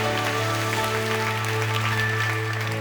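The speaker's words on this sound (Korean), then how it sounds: "우리 그 주님께 감사와 영광의 박수 올려드리겠습니다" A congregation claps together at a church prayer meeting, a steady wash of applause layered over sustained organ or keyboard chords that hold throughout, fairly loud and continuous with no talking.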